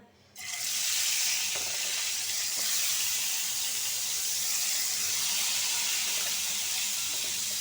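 Pieces of fresh rohu fish drop into hot oil with a sudden burst, then a loud, steady sizzle and frying hiss carries on without a break in a home kitchen.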